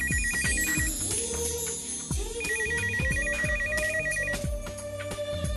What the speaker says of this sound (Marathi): फोनची रिंग वाजते.